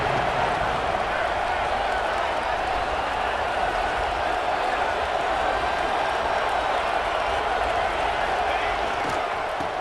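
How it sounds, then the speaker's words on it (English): A college football crowd at an Ole Miss game roars steadily for the defense in the red zone, a dense, continuous wall of cheering beneath a commentator's voice. "the crowd coming to life here, trying to help this defense down in the red zone"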